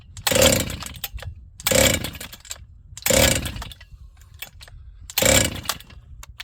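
A Husqvarna 268XP chainsaw, an auction saw, runs at fast idle in four separate loud bursts of roughly a second each, with quieter gaps between them, close to the microphone and with no talk.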